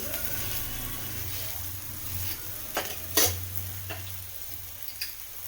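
An akki rotti, a rice flatbread, cooks on a pan with a quiet steady sizzle, broken by a few sharp scraping and tapping clicks as it is handled and turned, close by and fairly soft.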